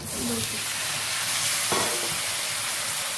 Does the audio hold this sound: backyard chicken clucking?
no